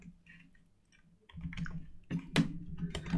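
Computer keyboard typing through a keyboard cover, recorded on a Blue Yeti microphone: soft, muffled clicks and taps, sparse at first and then in quicker clusters, faint and close.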